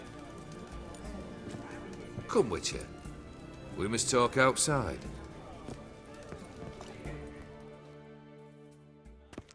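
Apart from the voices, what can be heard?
horse hooves clip-clopping in video game The Witcher 3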